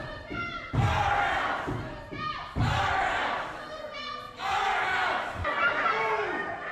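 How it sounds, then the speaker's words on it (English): Protesters chant in rhythmic unison, a crowd of voices swelling in repeated bursts with short pauses between, loud and close, with occasional thuds underneath. "They're just standing there and chanting, "Let her speak.""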